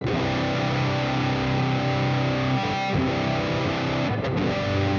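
Distorted Jackson PC-1 electric guitar switched to its Super 3 pickup, a thick held chord ringing loud and continuous, with a short break in the sustain near the middle and no voices.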